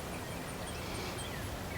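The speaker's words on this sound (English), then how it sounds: "I just hear birds" Birds chirp outdoors near a garden in short, faint, scattered calls over a steady wash of ambient noise.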